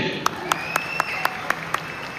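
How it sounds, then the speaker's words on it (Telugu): Seven sharp claps in an even, steady rhythm, spaced about a quarter second apart, over a constant background hum. "బిగ్ క్లాప్ అండి"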